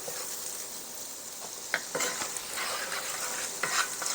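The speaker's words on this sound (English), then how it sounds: "Let that start to melt in there." Butter melting in a pan during shrimp Alfredo cooking, giving a soft, continuous close sizzle with a few light utensil taps and stirring scrapes, no one talking.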